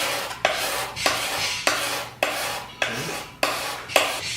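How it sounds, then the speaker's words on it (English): Dried glue is scraped off a surface with a Roarockit Edge scraper in about seven regular, close rasping strokes, each starting with a sharp catch, with no talk. "We've got some glue patches up in the corner here, just some dried glue, and we can scrape that off very easily."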